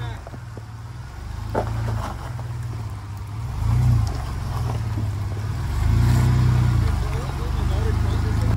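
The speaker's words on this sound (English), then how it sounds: "My girlfriend is driving a manual Jeep off-road on a blue trail." A manual Jeep Rubicon engine labors off-road on a blue trail at Rausch Creek, a low steady rumble that swells with revs several times, heard from the passenger seat.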